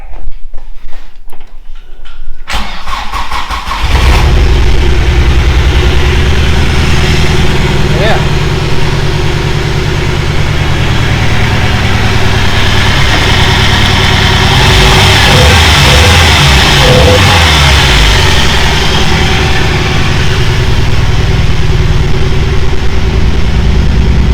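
A vehicle engine, just repaired after an ignition fault, starts up after a few quiet seconds and then idles loud and close with a steady low rumble to the end.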